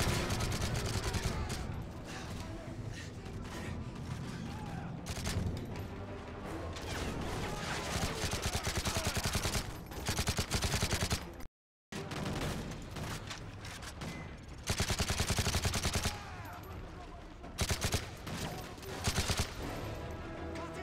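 Heavy automatic gunfire and explosions fill a Call of Duty Modern Warfare 3 firefight, with dense, continuous bursts and crashes, one brief dropout, and loud volleys resuming through to the end.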